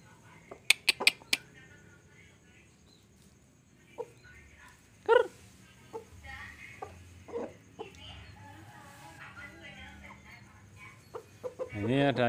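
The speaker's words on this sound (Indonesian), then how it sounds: "Ini ada ayam satu saya yang datang lagi nih ya." Chickens, including a smaller and a larger rooster, feed on bread outdoors with scattered short clucks and sharp calls, a few loud bursts early and near the end, over a quiet background.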